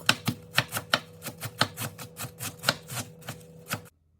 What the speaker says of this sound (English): Cutting the lettuce here.